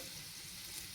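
Dried red chillies sizzle steadily in hot oil for a tempering, a continuous close frying crackle with no talk over it.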